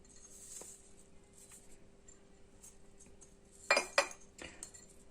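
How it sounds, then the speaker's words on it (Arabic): A glass is handled while thyme is added for a ginger-and-lemon remedy, giving a few faint clinks and a couple of sharper close taps near the end in an otherwise quiet kitchen. "غادي ناخذوا هاد الكاس هذا، غادي نضيفوا فيه الزعتر"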